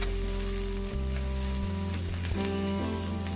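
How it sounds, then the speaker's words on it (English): Crushed garlic and grated ginger stir-frying in hot oil in a wok; a steady, close sizzle with a faint constant hum behind it and no voices. "let's add the crushed garlic and grated ginger to your heated oil in a wok or heavy based pan. Stir fry for about 30 seconds."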